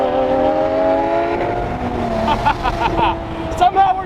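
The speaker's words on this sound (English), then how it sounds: "that car sounds insane" A mid-90s Mercedes S600 engine drones loudly and steadily near the listener, its pitch shifting as it revs, with people talking over it.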